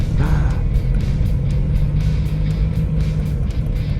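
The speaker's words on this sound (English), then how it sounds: "Oh, a lot of Harleys, a lot of Harleys." Harley-Davidson motorcycles ride through the Sturgis Motorcycle Rally, a loud, steady low engine rumble close by with a deep, even throb and passing surges of exhaust noise.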